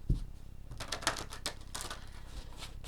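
A heavy tarot card deck is shuffled by hand, giving a run of close, quiet riffling clicks and soft flutters in uneven bursts, with no one speaking.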